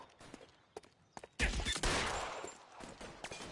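A gunshot in LA Noire: one loud, close crack with a short ringing tail, preceded by quiet scattered clicks and footsteps, with a second smaller report following.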